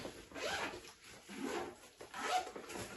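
A zipper on a new Nike backpack is pulled open in three quick, close rasping strokes, quiet and alone with no talking.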